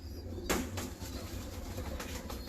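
A Lalpari Chinese pigeon and other pigeons coo in low, soft murmurs beneath a sudden nearby click or flutter, and the steady cooing continues close by throughout.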